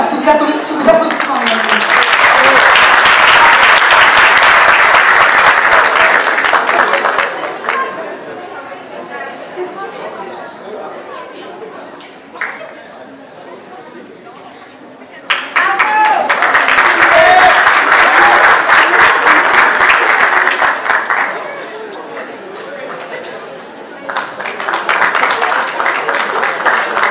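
A diploma ceremony audience at a business school bursts into loud sustained applause in two main waves with a shorter third, separated by lulls of crowd chatter and an announcer's voice.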